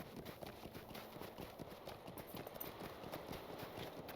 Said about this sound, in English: you're riding your horse and it sounds like you're crunching hard packed snow under your feet